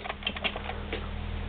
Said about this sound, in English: you get to type whatever you want